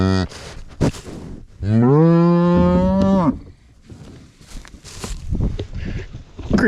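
A cow on a farm at calving time gives one long, loud, close moo mid-clip, framed by bumping, shuffling hoof and handling noises in the barn.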